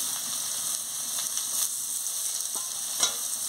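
Onion frying together with potato and eggplant in a pan, a steady close sizzle with faint stirring taps and no voices.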